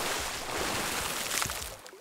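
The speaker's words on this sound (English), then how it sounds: "Cannonballs." Cannonball-style plunge into water recorded for sound design: a dense, rushing wash of churning water fills the whole stretch, swelling slightly before falling away at the end.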